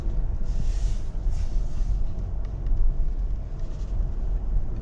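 A 2019 Toyota RAV4 on the move gives a low, steady road rumble from inside the cabin, with faint wind noise and no voices.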